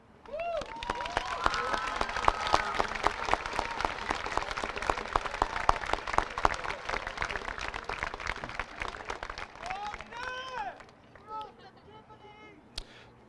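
Sustained applause from a crowd at a 2015 high school graduation ceremony, steady clapping over a dense broadband texture, with brief vocal-like tones and cheers near the end as it tapers off.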